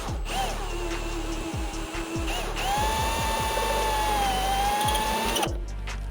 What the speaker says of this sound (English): And the purpose of this hole right here is just to center up that spot weld cutter.